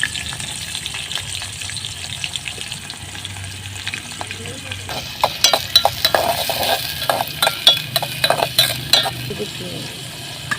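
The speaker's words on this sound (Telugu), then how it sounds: "ఉల్లిపాయ పచ్చిగా కలిపి వేసేస్తుంది ఒకేసారి" Raw onions tipped into hot oil in a frying pan for an egg and broad bean peel fry set off a loud sizzle, followed by scraping stirring strokes and clinks of a utensil.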